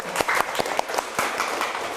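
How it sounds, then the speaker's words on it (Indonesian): Scattered clapping from a small group, a handful of uneven claps over two seconds, fairly close and without voices. "beri tepuk tangan untuk kelompok 1"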